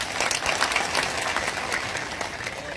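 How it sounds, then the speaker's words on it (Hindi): A crowd at a public gathering in Datia breaks into dense applause, loud, close and steady throughout, with sharp individual claps standing out from the roar and no speech. "तालियों की गड़गड़ाहट से उनका भी स्वागत किया गया।"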